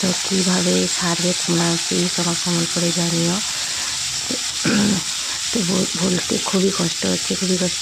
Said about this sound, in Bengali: তো আমি এখানে মাছ ভাজা বসিয়েছি